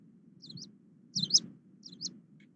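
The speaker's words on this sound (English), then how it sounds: "if you hear this kind of call, Hume's leaf warbler is one of those warblers which may give two distinct song types" Hume's leaf warbler calling in India, three short, high, thin chirps spaced evenly about half a second apart, close and clear over a faint low background rumble.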